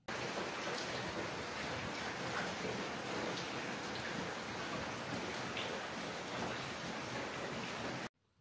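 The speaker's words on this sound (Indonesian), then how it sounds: "Dan lihat itu cuaca hujan deras di luar." Heavy rain pours down outside, a dense, even hiss of drops striking surfaces that holds steady and fairly close for several seconds before cutting off abruptly, with no talking.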